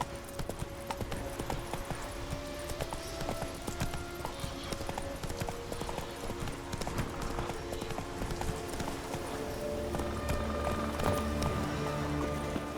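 Hooves clip-clop in a fast, rhythmic gallop as a horse runs in the video game The Witcher 3: Wild Hunt. The pounding is close and steady and grows heavier toward the end.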